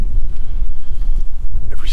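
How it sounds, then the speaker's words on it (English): Gusty wind buffets the microphone with a steady low roar in southern Texas, and a voice speaks faintly underneath. "Now it's windy."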